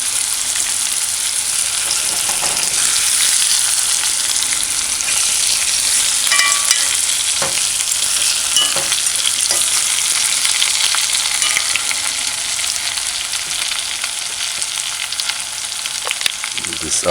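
Spam luncheon meat fries in a pan with a steady, close crackling sizzle and occasional sharper pops, continuous throughout.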